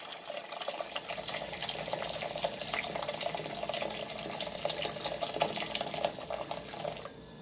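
Water from a tap pouring into a large cooking pot in a home kitchen, a steady rushing fill that runs continuously for several seconds before stopping abruptly near the end.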